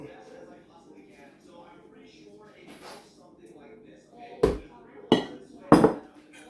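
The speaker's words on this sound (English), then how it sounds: "And we're just gonna mix that in." Batter for Great Northern bean fritters, mixed with one egg and flour, scraped with a utensil against a bowl in three sharp knocks after a stretch of quiet mixing under kitchen background noise.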